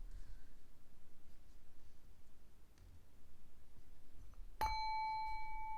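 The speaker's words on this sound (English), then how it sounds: "gonna ring the bell a couple times" A single bright ding of a small bell rings out clearly near the end, leaving a long sustained metallic tone after quiet room ambience.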